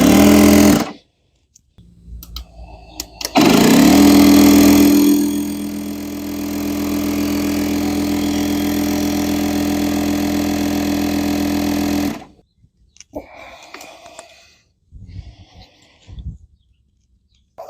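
Craftsman 3-in-1 inflator pumping a car tire: after a few clicks and a short burst, a loud steady rattling compressor buzz runs for about eight seconds, then stops, followed by handling clatter.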